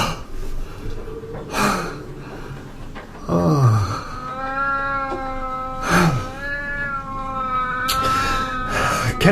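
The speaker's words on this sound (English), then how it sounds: "That damn cat of yours, get him out." A cat meows several times in an old-time horror radio drama aboard the ship Demeter, its drawn-out, wavering cries close and clear, with gasps and breathy snorts between them.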